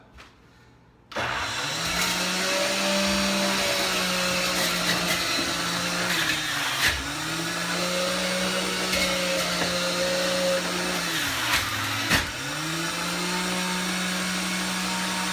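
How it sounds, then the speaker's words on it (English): Electric juicer loudly grinding pineapple and kale, a harsh motor whine starting abruptly and running steadily, its pitch dipping briefly a few times as pieces are pushed through, close and continuous with no talking. "I juice just the pineapple and the kale"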